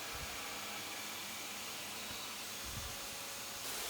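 A vacuum table draws water through a 19th-century watercolor on paper, producing a faint, steady suction hiss with soft airy rushing and no voices.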